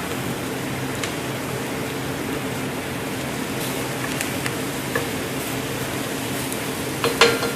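Garlic sizzling in a soup pot gives a steady, moderate frying hiss with a faint stir, and light clinks of utensils on the pot come near the end.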